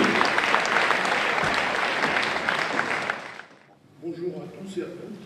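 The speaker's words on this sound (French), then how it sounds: "Je remets des applaudissements, s'il vous plaît, pour les uns et pour les autres." Audience applause at a family-association round-table event, a dense wash of clapping that fills the room for about three seconds, then fades out as a voice begins speaking.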